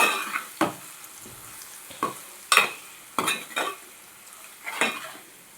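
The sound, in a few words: stirring chili powder into egg curry frying in pan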